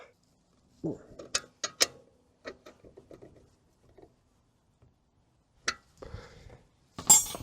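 Tightening exhaust fittings on a Voge DS900X motorcycle during a carbon fibre exhaust install, a series of short metallic ratchet clicks and clinks in bursts with pauses, close and fairly quiet.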